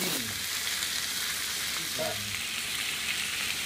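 Chicken longanisa with garlic, onions, carrots and zucchini sizzles steadily in a pan, a soft continuous frying crackle with a brief scrape of stirring near the middle, no talking.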